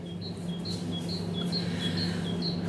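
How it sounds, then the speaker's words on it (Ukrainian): Small birds chirp repeatedly in short high tweets over a steady low background hum, fairly close and clear. "вже пташки співають"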